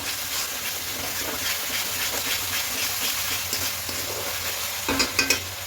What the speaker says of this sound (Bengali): চিনিটাকে খুব ভালো করে মিশিয়ে নেব